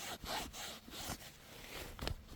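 A soft manganese stone is rubbed by hand to polish it, giving repeated scraping, rasping strokes in a steady back-and-forth rhythm, close and fairly loud, with no talk.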